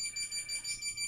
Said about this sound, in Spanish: esa es la alarma que me indica que tengo que salir ya a trabajar